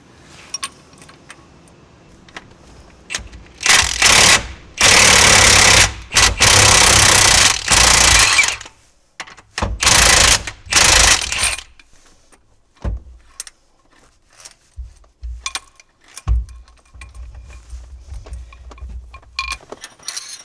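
A puller tool pulls the harmonic balancer off the 5.3L engine of a Chevrolet Silverado truck, with several loud, close rattling power-tool bursts in the middle, then quieter metallic clicks and clatter.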